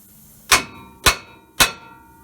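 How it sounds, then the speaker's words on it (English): Three loud, sharp metallic clangs from a hammer striking a suspension ball joint on a 2005 Ford Explorer, evenly spaced about half a second apart, each ringing briefly before fading. "we're just going to smack it right there until she pops down out of the way"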